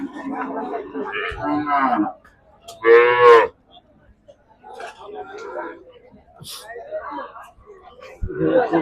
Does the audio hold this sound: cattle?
yes